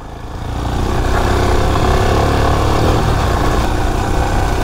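Royal Enfield Himalayan motorcycle engine on dry off-road terrain, a loud, dense continuous drone that swells in the first second and then holds steady, close to the microphone with no talking.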